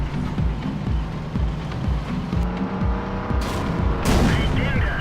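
Tank cannon fire and engine rumble in World of Tanks, involving a ToG II against a KV-1, with repeated heavy booms over a steady mechanical drone and a sharp burst near the end.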